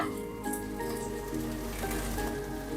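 Ginger, green chili and shallots sizzling in a pan, a soft crackling hiss like light rain, steady and close, with faint tonal music underneath.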